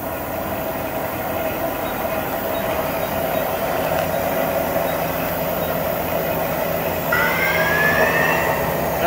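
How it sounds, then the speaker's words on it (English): An Okuma MC-5VA three-speed geared head machine spindle running at 3,000 RPM gives a steady mechanical hum and whine, close and constant, with a higher whine rising near the end. "This is a 3-speed geared head machine."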